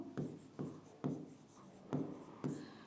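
Chalk or marker strokes scratch across a board in a quiet classroom, five short distinct bursts in an even rhythm, close and clear.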